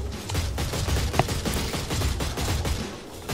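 Rapid, continuous gunfire from shooting at Sluggies in the Oddworld: New 'n' Tasty video game, dense overlapping shots with one sharper report standing out, steady and fairly loud throughout.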